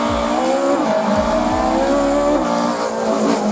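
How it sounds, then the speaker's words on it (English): A Toyota Corolla twin cam AE86 drifting hard, its engine loud and close as it revs up and drops back in repeated surges, with tire squeal threaded through the steady roar. "This is the Corolla twin cam AE86."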